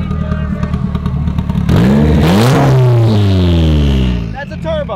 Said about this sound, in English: That's a turbo on a slingshot.